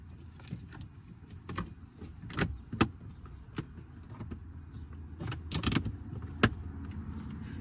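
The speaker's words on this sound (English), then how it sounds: "we're going to install the door" A plastic cabin air filter access door is fitted behind the glove box of a Ram 1500. Quiet, close clicks, taps and a few sharper snaps come at irregular intervals, with no talking.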